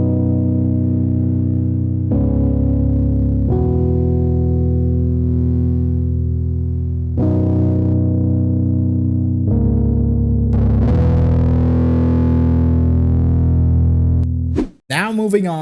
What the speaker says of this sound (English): we come to our last effect, the distortion